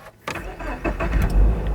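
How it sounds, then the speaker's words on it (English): A Toyota GR86 engine starts after the clutch is pressed: a short starter whir, then the engine catches and revs briefly before settling, close and loud. "clutch and start, the car will start right up"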